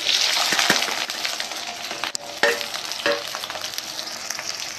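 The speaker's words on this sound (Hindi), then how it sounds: "कढ़ाई हमारा गर्म, और प्याज, तेल हमारा गर्म हो चुका है।" Onion frying in hot oil in a kadhai makes a loud, dense sizzle that crackles steadily throughout, with a few sharp clinks and stirring scrapes close by and no talking.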